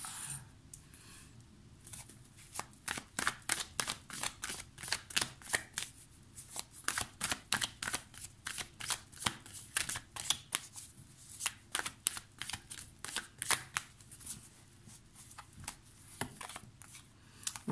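Witches' tarot deck shuffled by hand, producing a close, steady series of crisp riffling card bursts at an even rhythm, mostly alone with little else in the background.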